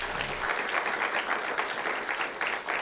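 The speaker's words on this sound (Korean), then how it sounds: "박수 한번 주세요" A church congregation at a Friday evening service claps together in a dense, steady round of applause that holds at an even level throughout, with no voices standing out.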